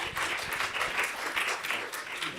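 A conference audience applauds, a continuous wash of many hands clapping at moderate volume, steady throughout with no voices on top.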